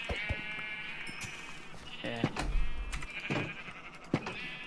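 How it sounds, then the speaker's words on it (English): Sheep bleating in the Minecraft video game, several short repeated bleats with game hit sounds and thuds between them, fairly close, while a person says a brief word. "I'm gonna go and kill one or two sheep"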